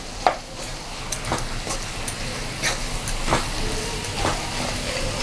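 A spoon stirs potato masala for poori in a pan, scraping and knocking every second or so over a soft sizzle, close and steady with no talk.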